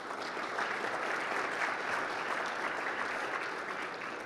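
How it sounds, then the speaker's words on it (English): Audience applause fills a conference session room after a presentation on Jamf API credential tooling, a steady, dense wash of clapping that holds evenly for several seconds without voices over it. "give these guys a round of applause"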